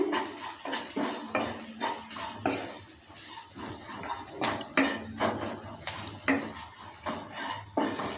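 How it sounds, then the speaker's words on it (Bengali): Spices are stirred in a pan for a paneer and bean-seed dal: a quiet run of repeated spoon scrapes and light metallic clinks with a faint sizzle underneath. "সব কিছু দেওয়ার পর ভালো করে আবারও নেড়ে চেড়ে নিচ্ছে"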